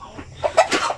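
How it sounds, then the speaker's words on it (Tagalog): Sampin chickens, a laying breed from the Zamboanga Peninsula, give a quick run of close, loud clucks lasting about a second. "So ito yung mga manok na malakas mangitlog."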